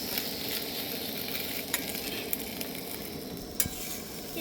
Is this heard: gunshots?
no